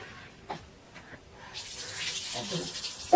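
Tap water runs steadily over soaked chickpeas being rinsed in a kitchen, the flow growing louder and fuller partway through, with a brief clatter at the very end.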